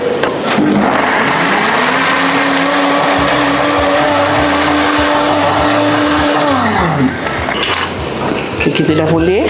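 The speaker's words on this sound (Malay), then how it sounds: "kita nak blend cili merah, bawang putih, bawang besar dan buah keras." A kitchen blender whirs loudly and steadily, pureeing red chilies, garlic, onion and candlenuts, its motor whine holding a constant pitch before winding down near the end, close up, with a brief start-up surge.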